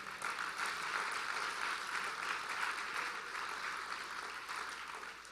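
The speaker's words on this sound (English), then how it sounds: "Let's give moms a hand clap." A church congregation at a Mother's Day service claps for mothers, a steady wash of many hands heard at a distance and fairly faint, continuing evenly without talk.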